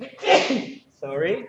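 A single sneeze bursts out close by, followed by a short pause and a brief spoken reply.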